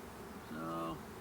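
Honeybees buzz at an opened hive one month after a package install, a soft brief hum with a steady rising drone near the microphone on a windy day.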